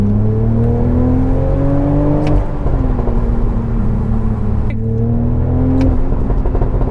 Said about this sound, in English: just get onto the throttle. It will give you an immediate rush and pull hard and fast to the red line.